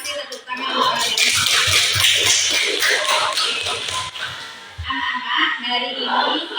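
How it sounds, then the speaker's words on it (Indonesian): Children clapping together in a classroom, a sustained stretch of dense, overlapping handclaps that fades briefly and then picks up again, with voices mixed in. "tepuk tangan untuk kalian"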